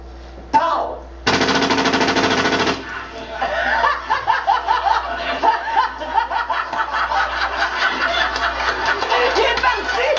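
Gunfire during bird dog hunting training: a loud blast near the start and then a long burst, followed by scattered sharp pops, with people talking, chuckling and calling out over it outdoors.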